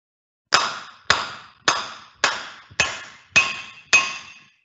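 Seven evenly spaced, sharp metallic strikes of a 5-pound hammer driving a tool on a wheel-end bearing until it pings, each with a short bright ringing tail, nothing else audible.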